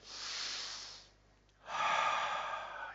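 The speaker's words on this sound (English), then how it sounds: "Take a deep breath." A person breathes deeply during a calming group exercise: a long, airy inhale, a short pause, then a fuller, louder breath follows close by with no talking.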